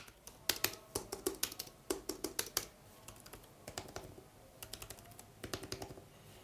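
Close typing on a ProtoArc XK04 keyboard with soft, not very tactile keys: quick irregular bursts of crisp key taps with brief pauses, quiet and up close, no voices.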